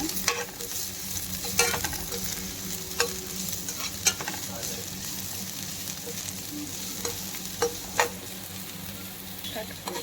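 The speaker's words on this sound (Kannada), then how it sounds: "ಈರುಳ್ಳಿ ಹಾಕೊಳ್ತಿದ್ದೀನಿ. ಹಸಿಮೆಣಸಿನ್ಕಾಯಿ ಅದು ಸ್ವಲ್ಪ ಫ್ರೈ ಆಗಬೇಕು 1-2 ನಿಮಿಷ." Onion and green chilli frying in a pan for gobi manchurian, a steady close sizzle with periodic clinks and scrapes of a spatula stirring, no talking.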